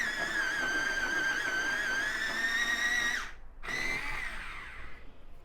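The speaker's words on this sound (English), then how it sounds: "I'm actually going to sharpen that a little." A light cadmium red Polychromos colored pencil is sharpened in a steady, continuous whir lasting about three seconds, then a short pause before a second burst of grinding resumes and tapers off. No one speaks.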